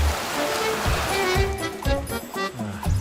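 Water from a waterfall stream rushes steadily with a broad, close splashing wash, while voices talk over it throughout.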